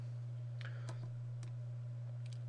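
A computer mouse clicks a few times, sharp and close, while the user picks the pen tool in graphics software to edit anchor points. The clicks sit over a steady low electrical hum, with no talking.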